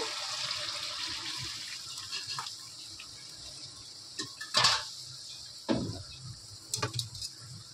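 Water splashes into a pan of chicken liver being cooked down, a steady hissing wash at first, then a few sharp clinks and splashes of the pan and utensil.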